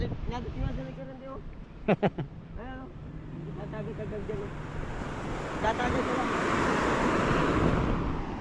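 Rough surf crashing and rumbling during a typhoon at Dinahican, Infanta, Quezon, building louder in the second half, with someone talking over it at first and wind buffeting the microphone.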